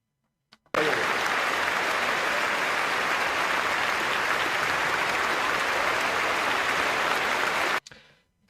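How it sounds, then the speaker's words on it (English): An audience at the Labour Conference claps steadily for a speech, a dense, even burst of applause lasting about seven seconds that starts and stops abruptly. "Rachel Reeves is doing that weird kind of despotic dictatorship audience clapping"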